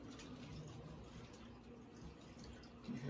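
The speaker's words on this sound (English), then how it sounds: "you hear the water flowing up" Water flowing through a newly installed whole-house filter housing after the outlet valve is opened, a steady, faint hiss and rush with light dripping, continuous for a few seconds with a slight swell at the end.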